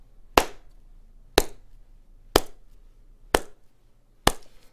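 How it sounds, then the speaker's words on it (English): A slow clap, five sharp single hand claps spaced about a second apart, close and crisp with quiet gaps between. "This is a slow clap moment."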